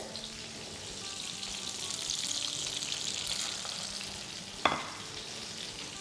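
Lacha paratha frying on a hot pan gives a steady, soft sizzle throughout, with one brief sharp clink near the end.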